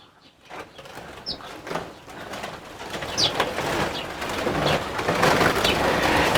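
Fifteen to twenty wild birds fill a chicken coop with overlapping cooing and chirps and occasional wing flutters, growing busier and louder throughout.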